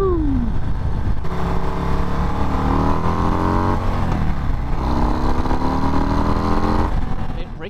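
A 2024 Harley Davidson Breakout motorcycle accelerates while riding, its loud engine climbing steadily through gears in rising sweeps with a brief dip midway, rough wind noise throughout and no speech.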